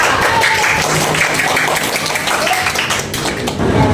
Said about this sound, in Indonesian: tepuk tangan untuk saya